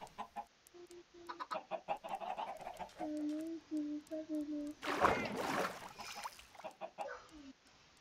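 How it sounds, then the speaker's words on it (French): A chicken in Minecraft 1.14 clucks in short, repeated tonal bursts, then a splash as it goes into water, followed by a few more clucks. "Il y a une poule qui va dans l'eau"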